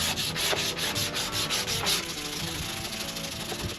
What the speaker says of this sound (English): the trick to using this sandpaper is not to let the influence of your thumbs